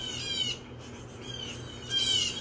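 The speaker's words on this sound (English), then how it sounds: "I hear all the birds going nuts." Several birds, bluebirds among them, call in quick, excited bursts as a hawk attacks a squirrel, high chirps and squawks rising and falling with a louder flurry near the end.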